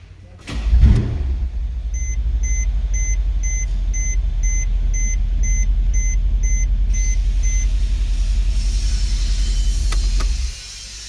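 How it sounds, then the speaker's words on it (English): A 2012 Mercedes CLS 63 is started and idles with a deep steady rumble from a faulty turbocharger grinding, close and loud, while a repeated warning chime beeps in the first part. "that's why you hear the turbocharger. If you hear it with all this grinding sound."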